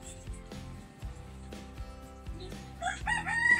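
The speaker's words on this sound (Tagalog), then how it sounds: "Ayun, may manok." A rooster crows at a distance, its call rising toward the end over a faint background of music and ambient noise.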